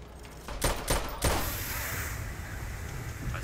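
Gunfire in a video game, a rapid cluster of sharp shots followed by a sustained rushing roar, fairly close and alone without talk.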